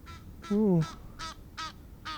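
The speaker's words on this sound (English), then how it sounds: "a goose, I believe" A goose honks several times in short separate calls, one loud nasal honk followed by fainter repeated ones, heard outdoors at moderate distance.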